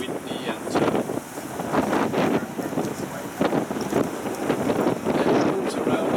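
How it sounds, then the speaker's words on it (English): Strong wind gusts buffeting the microphone beside a sea lagoon, a steady roaring rumble with repeated louder blasts throughout, with a voice speaking faintly underneath. "today it's very windy"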